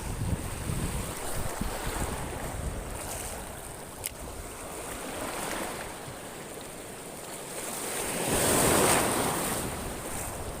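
Strong ocean waves wash and break around a small fishing boat, a continuous rushing surf with wind buffeting the microphone and a louder surge near the end.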